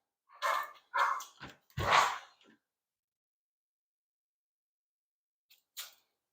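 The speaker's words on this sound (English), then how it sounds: "my dog's doing dog things." A pet dog named Cara gives three sharp barks in quick succession, fairly close, then falls silent before one short faint bark near the end, in a garage where a custom hot rod chassis is being built.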